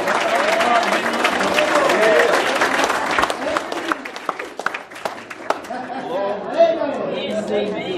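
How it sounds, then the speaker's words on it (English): A church congregation breaks into scattered clapping amid lively chatter, the applause strongest at first and then dwindling into voices and a few isolated claps. "give God a hand clap for this, man"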